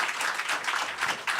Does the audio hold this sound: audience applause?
yes